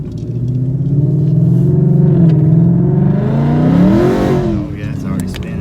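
A supercharged 2018 Ford Mustang with the Coyote engine, running on street tires, accelerates hard and loudly from inside the car, the engine note climbing and dipping as the tires spin, with voices talking over it.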